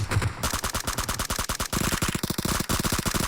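A rapid burst of automatic gunfire from a G3 rifle rings out during a PUBG Mobile esports grand final, loud, close and sharp, in a rattling stream of shots with a brief break partway through.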